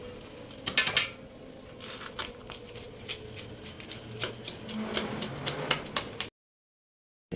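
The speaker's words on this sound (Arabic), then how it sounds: "سمعي صوت القرمشة يا ولاد، سمعي صوت الخرفشة، ده صوت الكنافة وهي كده محمصة بجد" Crisp, crackly crunching and rustling of toasted kunafa pastry with scattered sharp clicks, close up and fairly quiet, ending in a sudden cut to silence.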